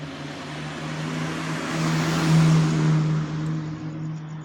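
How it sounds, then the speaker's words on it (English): A car passes by on a road, its engine and tire noise rising to a loud peak midway and then fading, with no voices. "More cars."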